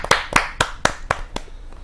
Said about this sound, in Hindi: जोरदार तालियों के साथ अनिल जोशी जी का स्वागत है।